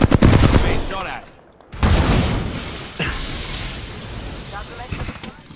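Gunfire in the video game Apex Legends, with dense, rapid automatic bursts and heavy impacts, loud and close, breaking off for a moment before a boom and more sustained firing.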